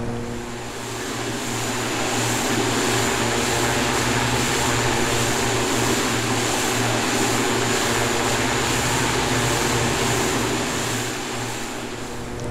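A simulated T-6A Texan II turboprop trainer in FSX roars at full throttle on takeoff, a loud steady propeller drone with a constant high whine, sustained for the whole stretch without talk.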